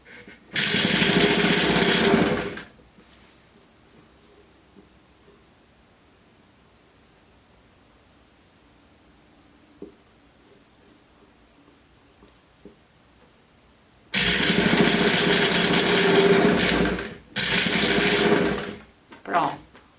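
Sewing machine topstitching a cardigan collar in two loud bursts of rapid stitching, one at the start and another near the end with short pauses, separated by a long quiet gap.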